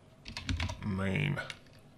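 Quick keystrokes on a computer keyboard as a command is typed, a short burst of close, quiet clicks with a voice speaking over them.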